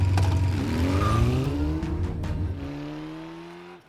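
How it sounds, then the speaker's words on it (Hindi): Car engine revving up hard as the accelerator is pressed, a loud rising roar climbing in pitch then fading and cutting off near the end, close and alone. "चला अब एक्सीलेटर दबा।"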